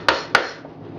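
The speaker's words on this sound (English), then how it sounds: "nailing in these frame rests" Two sharp hammer strikes driving nails into wooden frame rests while assembling a standard bee hive box, each hit ringing briefly before fading to quiet.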